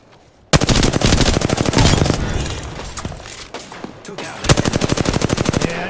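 Rapid automatic gunfire in Apex Legends, after a brief quiet start a loud burst of fast repeating shots, a few seconds of sparser shots, then another rapid volley near the end, with a voice faintly under it.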